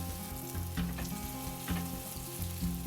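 Cubed bacon fries in olive oil in a pot, giving a soft continuous sizzle with a few gentle stirring bumps, heard close and alone.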